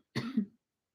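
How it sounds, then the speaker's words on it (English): A single short, close cough, sharp and husky, lasting under half a second and followed by silence. "sorry, I have cough"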